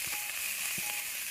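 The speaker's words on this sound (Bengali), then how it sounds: "ভাজতে থাকবো" Green chilies and spices frying in a pan while a village meal with homemade paneer is cooked, a steady soft sizzle with a couple of brief stirring clicks, no talking.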